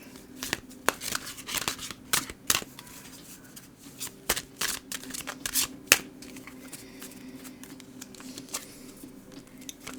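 A deck of oracle cards is shuffled by hand during a tarot reading, giving close, irregular bursts of riffling and snapping card edges. Quieter gaps fall between the bursts, which thin out toward the end.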